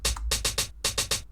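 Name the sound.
hi-hat in a repeating pattern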